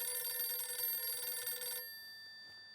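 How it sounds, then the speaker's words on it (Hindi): A mobile phone ringing indoors, a bright tonal ring that sounds for under two seconds and then stops, leaving faint quiet. "नहीं नट्टू काका, मेरे कान नहीं बज रहे हैं, फोन बज रहा है, सुनिए।"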